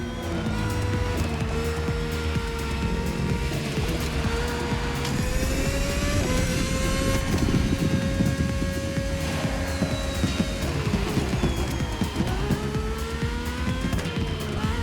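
Engines of an AGP race car and a propeller plane race side by side in The Crew Motorfest, with steady loud revving, pitch climbing and dropping through gear shifts and turns over a continuous engine drone.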